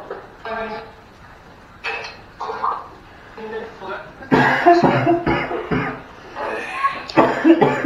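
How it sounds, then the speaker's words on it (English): A person coughing inside an abandoned prison, several harsh coughs in bursts, louder and more frequent toward the end, set in a hollow indoor space. "It's something about me coughing"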